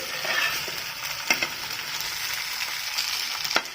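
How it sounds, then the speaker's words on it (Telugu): Fish pieces shallow-frying in oil in a pan for Hyderabad-style fish fry, giving a steady broadband sizzle with a few sharper crackles and pops, close and continuous, with no voices. "ముక్కలు ఇలా తిప్పుతూ పైన ఆయిల్ వేసుకుంటూ ఫ్రై చేసుకోవాలండి"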